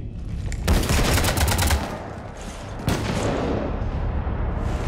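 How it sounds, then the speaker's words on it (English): Gunfire raking a ship in the game Mass Effect 3: two loud bursts of rapid shots, the first running about a second, then a rumbling lull before a second burst hits and lingers. "You want to stop shooting up my ship?"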